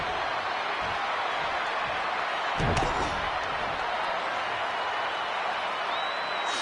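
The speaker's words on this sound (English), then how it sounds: "Look at this crowd. It's insanity in here." Wrestling arena crowd in the WWE 2K20 video game, a steady loud roar of cheering throughout with one sharp slam-like impact near the middle.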